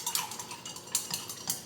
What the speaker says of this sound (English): I need to stir my coffee.